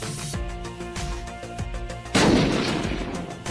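A fragmentation grenade goes off in the survival game Unturned: after low rumbling game sounds, a sudden loud broadband blast hits midway and rolls out into a lingering roar, close and heavy.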